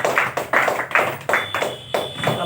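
An audience at a product presentation claps to welcome a speaker on stage: loud, close claps in a steady, even rhythm of about three per second, with no voices.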